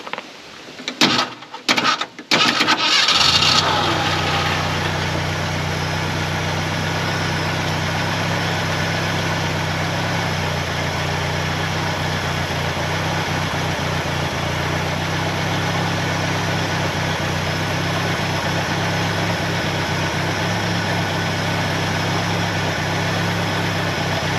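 A Ford Ranger pickup's engine cranks in a few short bursts, then catches and settles into a steady, close, low idle that rumbles on evenly with no talk over it.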